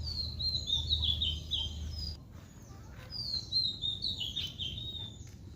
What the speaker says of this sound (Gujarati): અહીં સવારમાં ખૂબ સુંદર પક્ષીઓનો અવાજ સાથે કિલકિલાટ સાંભળવા મળે છે.